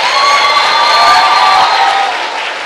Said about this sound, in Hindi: जोर से ताली बजाइए प्लीज।